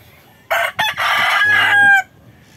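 A rooster crows loudly and close by, a long strained call lasting about a second and a half, with brief hen clucks just before it.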